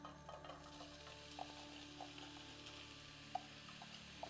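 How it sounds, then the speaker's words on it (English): Chopped onion fries in hot sunflower oil in a pan with a quiet, continuous sizzle and occasional soft pops and stirring clicks, heard close and alone. "Now goes in the chopped up onion."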